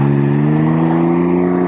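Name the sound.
Can-Am Ryker three-wheeler engine accelerating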